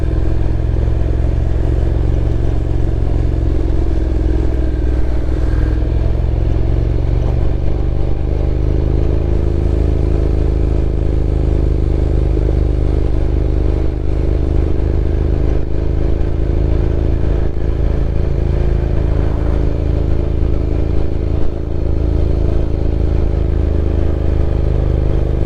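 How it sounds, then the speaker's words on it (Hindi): A Honda NC750S DCT motorcycle engine braking on a ride through the Lake District, its engine droning continuously and loudly with a slowly shifting pitch, under steady wind and road noise. "बेसिकली इंजन ब्रेकिंग इधर इस्तेमाल कर रहा हूँ मैं"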